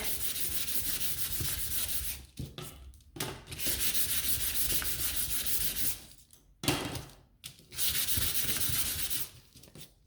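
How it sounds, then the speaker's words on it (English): Hand sanding of wooden pieces for a Halloween ghost sign, heavily distressed: steady, loud abrasive rubbing strokes in long runs, broken by a few short pauses, close up with no talking. "I'm going to grab these and sand them really well, and I'm going to distress them a lot."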